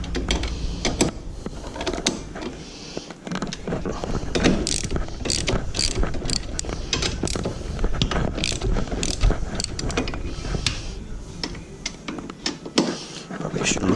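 Rapid ratchet clicking from a 12mm socket on an extension during pump wedge work on a Kawasaki Ultra 310 jet ski, steady bursts throughout with a voice speaking at times.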